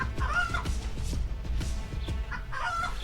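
Research chickens cluck and squawk continuously at close range, several birds overlapping in a busy, steady chatter with no talking.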